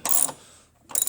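A socket ratchet turns a nut on a BMW X5 E53 front strut tower brace, giving two short close ratcheting bursts separated by a brief pause.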